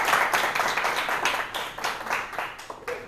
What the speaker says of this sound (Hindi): जोर से ताली बजाएंगे, हालेलुया।